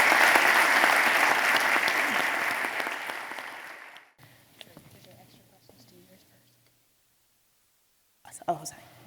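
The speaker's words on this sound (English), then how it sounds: "we give a round of applause for our panel tonight" An audience at a community panel event on gentrification in Raleigh gives a sustained round of applause that fades out over about four seconds, followed by quiet room noise and a few faint sounds.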